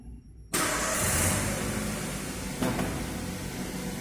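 A vehicle engine starts abruptly for an emissions test and settles into a steady, loud idle, with a brief bump in revs partway through; the running drone fills the rest of the clip up close.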